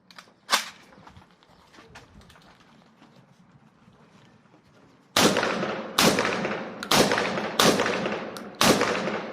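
Saiga 12 semi-automatic 12-gauge shotgun firing five loud sharp blasts at roughly even intervals, each with a short ringing tail outdoors, after quieter handling noises and one earlier pop.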